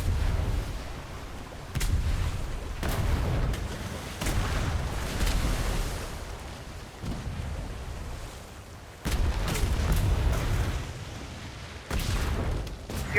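Ship cannons firing broadsides in a Royal Navy naval battle game, a series of heavy booming blasts in irregular bursts with rumbling tails, close and loud, no talk over them.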